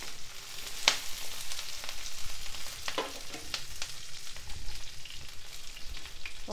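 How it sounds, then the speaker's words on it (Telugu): Onions and green chillies frying in a pan for poha tempering, a close, continuous crackling sizzle with occasional sharp pops and spoon scrapes throughout. "ఇలా ఉల్లిపాయ కొంచెం వేగినాక పచ్చిమిర్చి వేసుకోవాలి."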